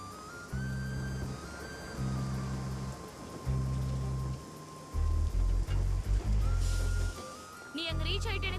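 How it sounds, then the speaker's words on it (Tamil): Heavy rain pours in a dense, steady hiss throughout, mixed under a loud musical score and sparse movie-style sound effects. "இங்க பயங்கரமா மழை பெய்யுது."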